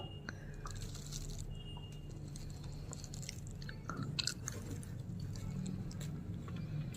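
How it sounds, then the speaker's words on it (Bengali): Someone chews fried rice and chilli chicken up close with soft, wet, irregular mouth sounds and small crunches, while a voice speaks quietly now and then. "চিবিয়ে চিবিয়ে খাও, চিবিয়ে চিবিয়ে খাও"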